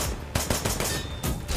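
Bursts of gunfire in the VR shooter Wanted Dead ring out in close combat, loud and dense, with repeated volleys across the whole stretch and no talk over them.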